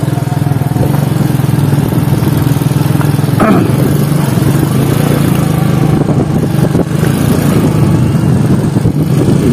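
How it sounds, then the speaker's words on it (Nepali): A motorcycle engine drones steadily and close while riding an off-road track through forest, with continuous rumble, slight revving changes and some rattling bumps. "म बाइकमा हिँड्दैछु,"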